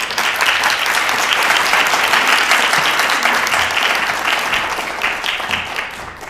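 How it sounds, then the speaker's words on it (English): An audience breaks into sustained, loud clapping after a speech at a speaking contest final, a dense, steady wash of applause that tapers slightly toward the end. "Let's give a clap to Carmen."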